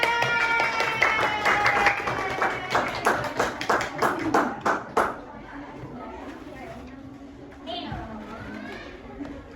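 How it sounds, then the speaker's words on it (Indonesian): A middle-school class claps hands in a quick run of bright, rhythmic claps for several seconds, then the room settles into quieter children's chatter. "Boleh tepuk tangan."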